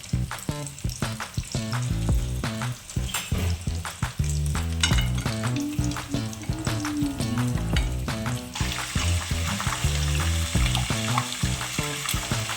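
Cheese rolls fry gently in a pan over low gas, a soft sizzle running beneath prominent melodic background music that grows brighter and hissier in the later part.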